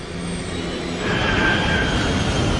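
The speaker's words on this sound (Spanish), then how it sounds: "El jet de 100 toneladas ruge cada vez más bajo" A 100-ton passenger jet flying low gives a steady, loud, broadband roar that swells and grows heavier partway through, heard alone without voices.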